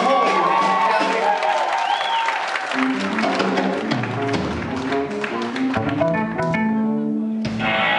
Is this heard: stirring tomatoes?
no